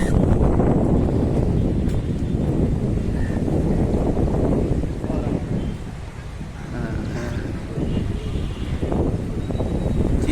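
Strong, steady wind rushing and buffeting the microphone, easing briefly in the middle before picking back up.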